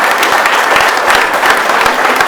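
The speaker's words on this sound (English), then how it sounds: "Round of applause for our great." Audience applause from a crowd gathered at an evening community event, loud, steady clapping that stays dense and unbroken through the whole stretch with no voices over it.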